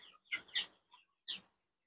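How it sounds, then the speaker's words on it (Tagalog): Five-day-old broiler chicks peep in a few short, faint chirps, a quick cluster followed by a pause and a single chirp, with no talking. "Ito po yung update sa aking mga sisiw na pang 5 araw ngayon."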